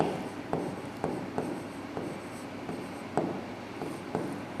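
Chalk scratches across a board in short, regular strokes, each a faint scrape repeating roughly every half second in a quiet room with no talking.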